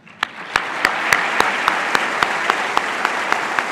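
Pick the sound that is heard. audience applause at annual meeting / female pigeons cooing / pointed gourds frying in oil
audience applause at annual meeting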